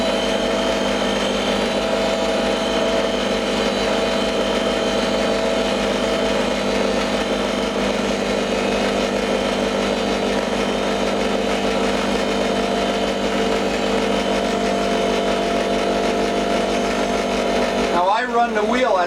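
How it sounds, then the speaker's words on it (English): A polishing wheel run at its highest speed buffs an old, rusty 25-year-old exhaust pipe, giving a loud, steady, high-pitched motor whine with sustained grinding that continues unbroken before briefly shifting at the end. "Run the wheel at the highest possible speed."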